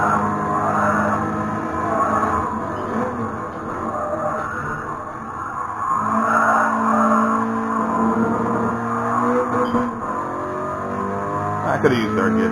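A Toyota GR86 in a racing video game: a steady engine drone and revs shift through gears with tire squeal during turns, under continuous talk from a nearby man.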